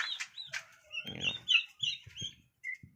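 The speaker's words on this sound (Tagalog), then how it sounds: "Ito yung bantam chicken natin oh." A bantam chicken clucking close by in short, irregular bursts of soft clucks and chirpy calls with quiet gaps between, no talk over it.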